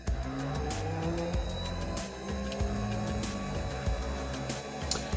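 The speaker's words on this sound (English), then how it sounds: "our key is switched on, so let's give it full throttle" Electric motor of a drift mobility scooter whirring at full throttle with no load, a steady whine with faint periodic clicks and rattles, fairly quiet and close.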